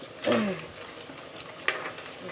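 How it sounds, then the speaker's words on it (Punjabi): Paneer sizzling as it fries in a home kitchen pan for matar paneer, a steady soft crackle with a brief stir and one light utensil clink, no voices. "ਚੱਲ ਆਪਾਂ ਪਨੀਰ ਤਲ ਲੈਨੇ"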